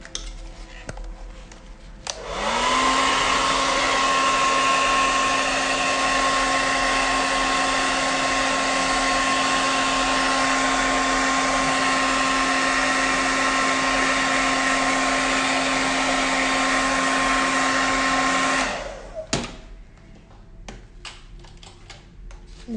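Hair dryer blowing on acrylic paint, switched on with a rising whine that settles into a loud steady roar for about sixteen seconds, then cuts off, with faint clicks and handling noises before and after.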